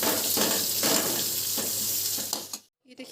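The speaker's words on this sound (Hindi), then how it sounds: "लहसुन, अदरक, इनको हल्का सा ब्राउन होने तक फ्राई करेंगे हम।" Garlic, ginger and onion frying in oil in a pan until lightly browned, a loud, close, steady sizzle with a few stirring scrapes, cutting off abruptly near the end.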